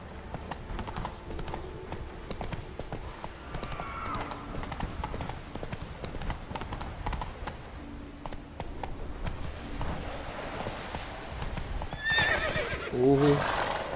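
Roach, the player's horse in the video game The Witcher 3: Wild Hunt, trots with steady clip-clop hoofbeats, then gives a loud, shrill whinny near the end, all over ambient game noise.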